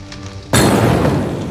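A bomb blast in the dungeon video game One More Dungeon 2, a sudden loud burst of crackling noise that cuts in after a quiet tonal stretch and holds steady before slowly fading.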